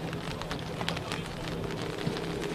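Rain falls during a semi-final football match in the Northern NPL, a steady hiss of drops with occasional sharper patters, with no voices in the clip.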